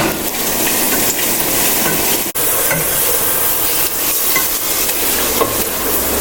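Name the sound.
stirring garlic and ginger frying in a pan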